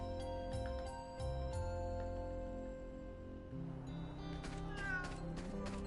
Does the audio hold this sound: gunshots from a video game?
no